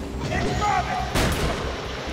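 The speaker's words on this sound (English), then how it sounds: "Those shots actually make you flinch." Gunshots in the Batman: Arkham City video game, in the Harley Quinn's Revenge add-on: a loud, close burst of gunfire over a rumbling game backdrop, with a sharp blast near the end.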